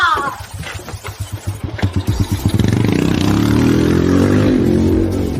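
A motorcycle starts and pulls away close by, its engine puttering in quick pulses before settling into a steady, loud rising drone.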